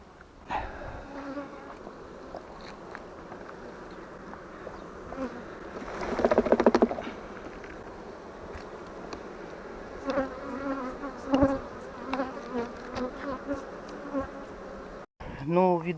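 Honey bees buzz steadily around an open hive as a beekeeper shakes them off three full honey frames, a dense continuous drone with sharper bursts of louder buzzing and a few brief knocks.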